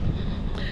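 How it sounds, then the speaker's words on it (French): Wind blowing outdoors, buffeting the microphone in a steady broadband rush for under a second with no other clear sounds. "Il y a un peu de vent, ça souffle."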